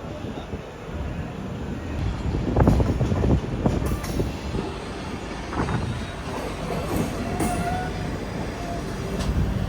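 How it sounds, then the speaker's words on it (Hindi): Taj Express train departing Agra Cantt station, heard as a steady rumble of rolling carriages with clanks and wheel noise, moderately loud and continuous with faint high squeals. "अपना डिपार्चर हो रहा है आगरा कैंट से।"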